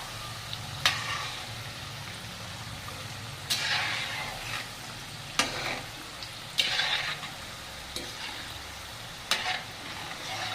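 Jaggery kapanya sweets fry in oil over low heat with a quiet, steady sizzle, broken by several brief louder stirring scrapes.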